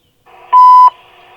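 A CN railway wayside detector at Napadogan sounds one sharp, loud electronic tone lasting about a third of a second, framed by a faint radio hiss before and after.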